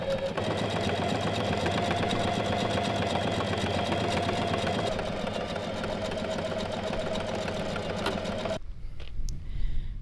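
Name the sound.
serger finishing a fabric seam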